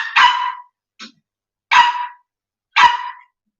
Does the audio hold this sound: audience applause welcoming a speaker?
no